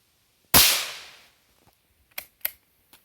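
A single loud, sharp gunshot at a bullseye target on a shooting range rings out and decays, followed by a few faint clicks, with no talking.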